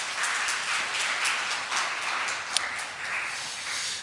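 A church congregation gives the youth group a sustained round of applause, a dense, even wash of many hands clapping, moderately distant, with no voices over it.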